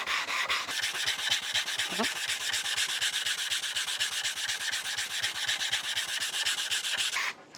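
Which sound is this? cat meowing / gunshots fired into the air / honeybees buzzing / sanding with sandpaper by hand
sanding with sandpaper by hand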